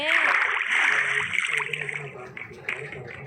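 Rushing, splashing water flows steadily and loudly in the video game Minecraft, with people talking over it.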